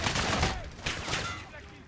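Machine gun fire in the Modern Warfare 2019 video game, a dense continuous burst of rapid shots with a brief swell in the middle, under and around shouted voices.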